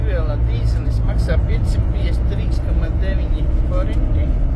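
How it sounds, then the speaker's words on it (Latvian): Busy road traffic in a Hungarian town streams past in a continuous broad roar with a low engine rumble, while someone talks over it throughout. "Satiksme diezgan liela."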